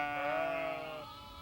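A sheep or goat from a herd raised by Torgut Mongolian herders bleats once nearby, a wavering tonal cry lasting about a second before fading into quiet open-air ambience.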